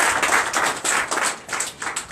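Congregation clapping in acclamation during a Sunday worship service in Benin, loud rhythmic hand claps in uneven bursts of pulses, close and prominent without speech.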